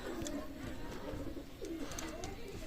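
Pakistani pigeons coo softly in low, repeated murmurs, with faint chirps mixed into a steady background hum.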